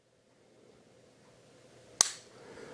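A Sig P229 pistol's trigger resets for single action with one sharp, close metallic click, alone against a quiet background.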